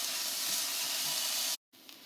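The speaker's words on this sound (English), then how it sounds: "this has been cooking for about a minute or two until the onions are nicely browned" Onions seasoned with garlic salt browning in a pan for Mexican alphabet soup, a steady close broadband sizzle that cuts out abruptly near the end and resumes faintly.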